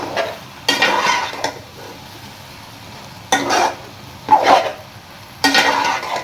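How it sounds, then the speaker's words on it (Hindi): Macaroni pasta stirred with a spoon in a cooking pan gives four separate bursts of scraping and clinking, each lasting under a second, with quiet pauses between them. "चम्मच इस तरह से हिलाते जाएं और उसको मिक्स कर दें।"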